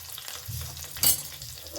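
Curry leaves and green chillies dropped into hot oil with mustard seeds crackle in a quiet, close sizzle, with one brief sharp spit of hissing midway and no voices.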